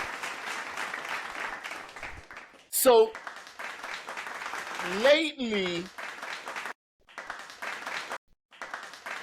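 Audience applause at a live show, bursts of clapping mixed with a speaker talking over the crowd, plus a couple of sweeping electronic tones.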